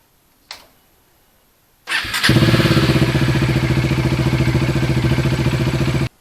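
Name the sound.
Bajaj Dominar 400 motorcycle engine running during coolant flush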